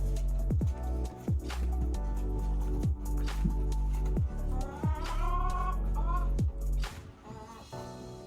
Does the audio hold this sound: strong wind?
no